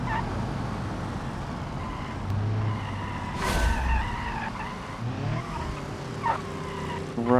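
A racing car in BeamNG brakes hard going downhill, its tires squealing and skidding in long drawn-out screeches over a steady engine drone, with a sharp burst of noise partway through.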